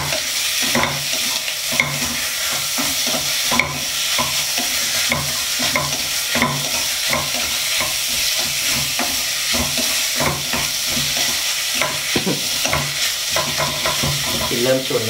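Fatty beef stir-fried in curry paste, with loud sustained sizzling and constant rhythmic spatula scraping against the pan, close and busy throughout.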